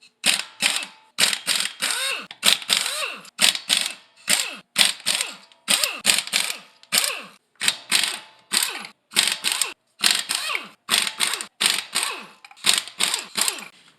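A hand ratchet clicks in quick bursts of rapid pawl ticks with short pauses between strokes, close and loud, while lug nuts are loosened to pull the wheels off a third-generation Toyota Tacoma.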